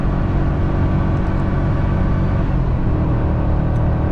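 A 2023 Ford F250 with a 7.3L gas V8 tows up a 6% grade in third gear, its engine droning loud and steady at high revs with constant low rumble.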